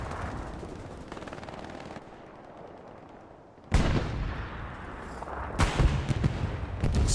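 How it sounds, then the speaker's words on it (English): Explosion in a World War II video game set at the Battle of the Bulge near Foy, with a Panzer IV tank hiding by a haystack; loud sudden blasts erupt amid ongoing gunfire and battle noise. "Explosion happens right here to the right of the hard camp"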